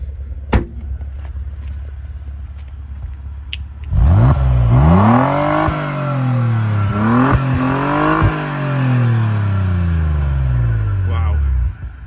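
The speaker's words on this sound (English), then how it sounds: "Right then, let's see what this car sounds like." A performance Vauxhall Insignia engine fires up after a quiet lead-in, then revs loudly and close by in several rising and falling sweeps that settle back to a steady idle.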